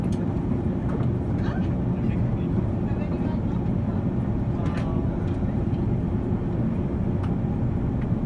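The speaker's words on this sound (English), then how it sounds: "In Pavullo, Italy, this glider lands perfectly in the rain" A glider landing in the rain at Pavullo, Italy, heard as a steady low rumble of wind and airflow with faint patter, continuous and unbroken with a few light knocks, no voices.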